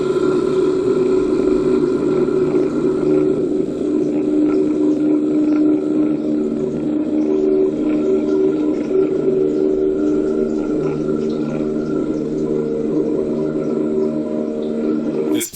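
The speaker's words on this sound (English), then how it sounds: "This plane made an emergency landing on a highway, and now it has to take off" A plane that made an emergency landing on a highway runs its engine up for takeoff, a loud, steady droning roar with strong tonal harmonics holding for the whole stretch before cutting off abruptly at the end.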